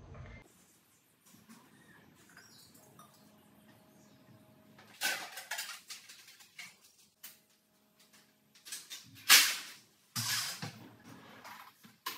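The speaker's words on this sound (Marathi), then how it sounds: "आता ती फक्त भांडी मला ट्रॉलीमध्ये लावायची आहे" Steel utensils being stacked into a kitchen trolley at home: soft rustling, then a series of sharp metallic clinks and clatters in irregular bursts, close by and fairly quiet overall.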